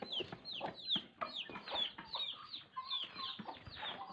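Several hens cluck and squawk in quick, overlapping bursts, close by and moderately quiet, with no talk over them.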